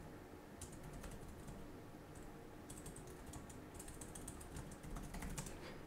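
Fingers type on the keyboard of a 16-inch 2024 Lenovo IdeaPad 5 Pro laptop with Intel Ultra 5 125H, a fast, faint patter of light snappy key clicks over steady room hiss, with no voices.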